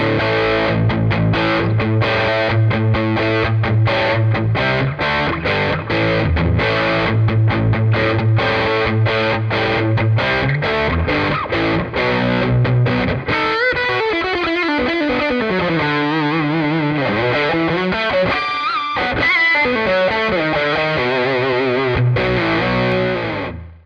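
Overdriven electric guitar with a crunchy amp tone through a Tonex amp-modeling pedal, playing chords and riffs continuously and loudly for the whole stretch, with no voices.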